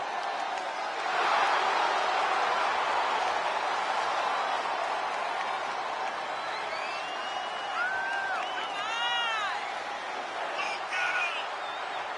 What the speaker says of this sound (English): All I hear is applause, Corey.